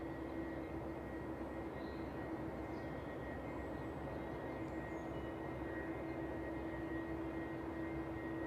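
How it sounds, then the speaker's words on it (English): A Bombardier aircraft landing on runway 27 at East Midlands Airport in the evening, heard as a steady, distant engine drone with a constant hum that holds evenly throughout, no voices over it. "landing on runway 27 this evening."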